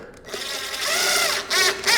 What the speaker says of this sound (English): So I'm going to drill that all the way through like that.